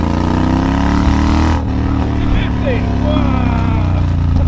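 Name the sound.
Triumph Bobber motorcycle accelerating in second gear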